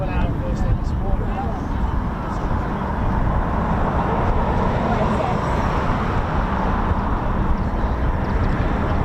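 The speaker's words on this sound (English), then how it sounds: "this is a C-47 Dakota of the Battle of Britain Memorial Flight" A C-47 Dakota of the Battle of Britain Memorial Flight drones steadily through the whole stretch, a dense broadband engine roar with voices talking over it.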